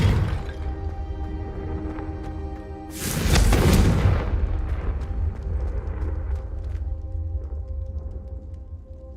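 A Confringo explosive spell goes off in Hogwarts Legacy: one loud, close booming blast a few seconds in over ambient game music, with a rumbling tail that slowly fades back into the music.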